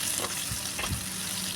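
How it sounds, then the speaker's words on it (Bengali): Vegetables frying in oil until reddish for a shukto-style dish give off a continuous dense sizzle, fairly close and even in level, with a couple of soft stirring bumps and no talking. "এই রকম লালচে করে ভেজে নেব।"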